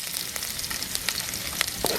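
Ginger for chicken pochero sizzles in hot oil, a steady close crackle with light scattered pops and stirring ticks and no voices.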